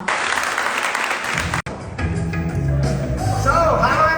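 Audience applause at a live hair colour show, a dense wash of clapping that fills the first second and a half, then gives way to a voice speaking over fading claps.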